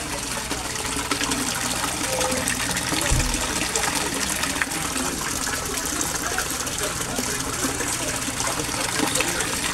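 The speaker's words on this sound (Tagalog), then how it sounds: "Rizan aerator pump or Rizan air pump. Rizan electromagnetic air pump." A Rizan electromagnetic aerator air pump runs steadily, pushing air that bubbles and gushes continuously through water, loud and close throughout, with one brief low thump partway through.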